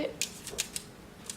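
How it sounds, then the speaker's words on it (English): Scissors snip through a strip of fake sprinkles in several quick, faint, crisp cuts spaced irregularly over a short moment, with no talking. "I'll just take some scissors and just chop it"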